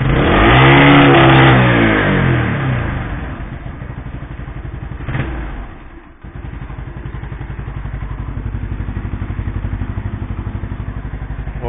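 A Yamaha SR motorcycle engine in -15°C cold catches on a fresh spark plug and revs up loudly, then settles into a steady, rapid thumping idle with a brief blip midway, close and alone without talk.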